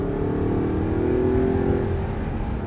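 An Audi R8 V8 engine revs up steadily from inside the cabin, a rising whine over a constant road rumble.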